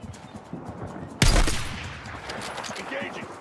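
Gunfire in a military shooter video game: a sudden loud burst of shots erupts partway through and rattles on in quick bursts, with faint voices underneath.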